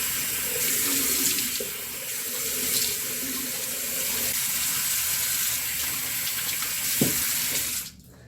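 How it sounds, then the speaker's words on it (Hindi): Cold water runs steadily from a tap into a sink during face washing, a close, continuous splashing stream that cuts off near the end. "अभी मैं ठंडा पानी ऑन कर रही हूँ"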